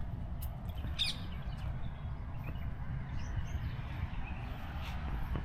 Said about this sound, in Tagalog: Marami ring ibon.